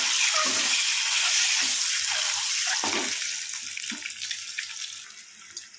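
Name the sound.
boiled eggs frying in hot oil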